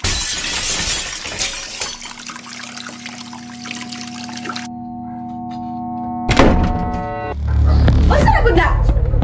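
A ceramic plate smashes loudly in a domestic argument, a sharp shattering crash followed by scattering fragments, amid tense voices and background music.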